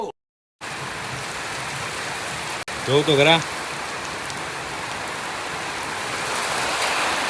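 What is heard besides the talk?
summer rain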